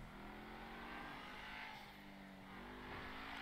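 Engine of an Ocelot F620, a Maserati GranTurismo-style car in GTA Online, roars loud and steady with a sustained rev, held close and alone with no talking.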